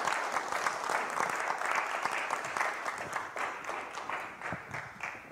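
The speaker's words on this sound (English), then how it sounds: "And let's give the Lord our best clap offering for this morning." A church congregation gives a sustained round of applause during a Sunday morning service, dense steady clapping filling the room without a break for several seconds.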